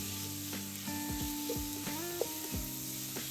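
Onion frying in cooking oil in a pan for Chinese-style vegetables, a steady faint sizzle with stirring clicks and scrapes scattered over it, no voices.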